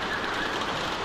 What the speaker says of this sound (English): We've been sitting out in the rain like a damn year.